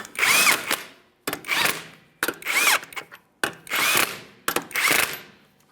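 Impact-style power tool snugging lug nuts onto a rear wheel of a 2007-2013 Acura MDX, five loud close bursts of whirring rattle separated by short pauses, no talking.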